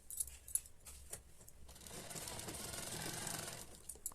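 A sewing machine runs steadily while stitching a patiala salwar, a continuous low mechanical whir building after some brief clicks and handling taps at the start, fairly faint and with no talking.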